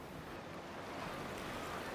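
Ocean waves roll and hiss on a shore in a continuous, even surf wash, moderately loud and unbroken, with no voices.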